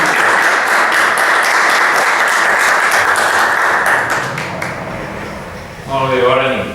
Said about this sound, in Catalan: Fort aplaudiment per Jordi.